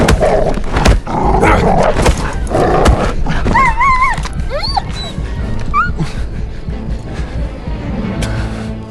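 A dog barks and yelps in the video game Indiana Jones and the Great Circle, sharp cries rising over a dense, loud bed of game action and noise, with a voice talking at times.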